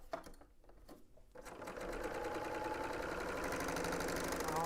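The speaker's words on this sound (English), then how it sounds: "now I am stitching down the shoulder seams." Sewing machine stitching garment shoulder seams: after a few short starts it runs into a steady, fast mechanical whir of needle strokes, close and continuous.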